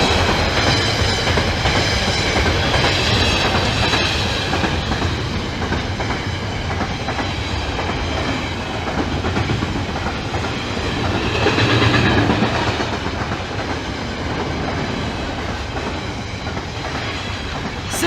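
A Class 66 diesel locomotive train rolls past a level crossing at night near Doncaster, a steady loud rumble with rail clatter lasting throughout and swelling slightly midway.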